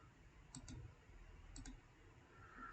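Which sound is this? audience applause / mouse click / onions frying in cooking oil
mouse click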